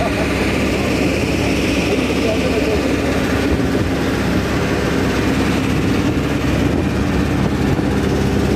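A military helicopter flying over the coastline of the Greater Accra Region gives a loud, continuous engine and rotor drone that holds steady throughout and sounds fairly close.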